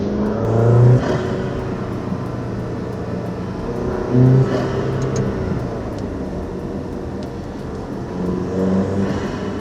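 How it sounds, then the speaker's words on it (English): An Alfa Romeo Stelvio Ti Sport with a BMS Performance Intake hums and surges with intake induction noise as it accelerates, heard from inside the cabin with windows up, steady with a few rising swells. "Here's the BMS Performance Intake, windows rolled up."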